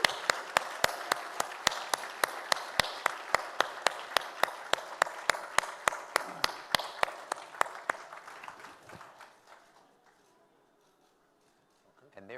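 A dinner audience claps after a discussion, steady rapid applause with sharp individual claps near and loud, thinning out and fading to near silence before a final rustle.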